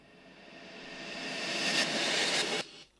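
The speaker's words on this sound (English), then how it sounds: "the Foley transition sounds like this" An isolated Foley transition effect: a broad whooshing riser that swells steadily louder for about two and a half seconds, then cuts off abruptly, followed by a brief faint tail.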